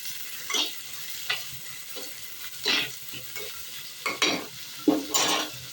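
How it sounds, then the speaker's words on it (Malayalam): Ginger, garlic, sliced onion and green chillies sizzle in hot oil in a pan while a spoon stirs them, giving a run of distinct scraping strokes over a soft, steady frying hiss, close and clear. "ഇഞ്ചി വെളുത്തുള്ളി മൂത്ത് കഴിയുമ്പോൾ സവാളയും പച്ചമുളകും കൂടി ഇട്ട് കൊടുക്കണം"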